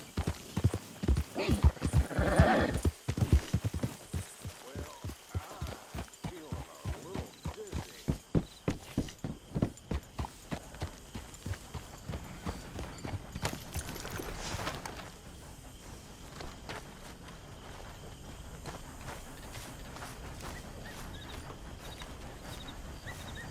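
A horse's hooves clip-clopping under a rider in the video game Red Dead Redemption 2: loud, steady, rhythmic hoofbeats at a brisk pace that fade after about fifteen seconds into a softer, continuous background rumble.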